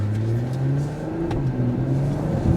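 2024 Mercedes-Benz GLE53 AMG coupe accelerating, a steady close engine drone heard from inside the cabin with a low rising hum and faint road noise throughout.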